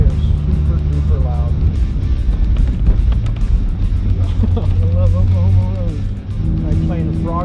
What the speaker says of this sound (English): these turbos whistle so loud